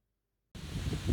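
Outdoors in a garden, wind buffets the microphone after about half a second of silence, producing loud, rumbling, broadband gusts that swell and persist to the end, with no talking.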